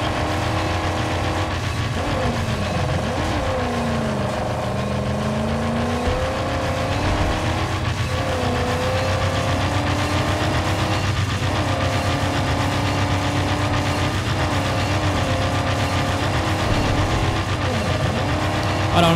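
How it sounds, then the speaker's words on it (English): A V12-like vehicle engine in the Mad Max video game roars loudly and steadily, its pitch swelling and dipping as it revs, with a dense, continuous growl throughout. "This is like a V12. What is this sound it's making?"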